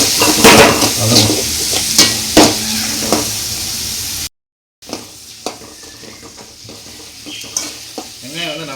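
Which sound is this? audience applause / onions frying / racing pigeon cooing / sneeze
onions frying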